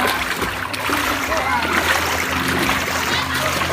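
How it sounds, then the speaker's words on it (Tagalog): Water splashes steadily as someone wades into a river at a falls, with dense broadband wash throughout and voices talking over it. "lumusong na sa ilog si Viajero."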